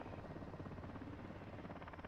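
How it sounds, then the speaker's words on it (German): Helicopter in the video game Call of Duty Modern Warfare II, a steady throbbing rotor drone with a low rumbling chop, continuous and fairly quiet, heard alone. "Nikolai, blockier sie mit dem Heli."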